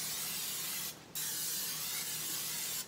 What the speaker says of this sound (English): I'm using this nonstick spray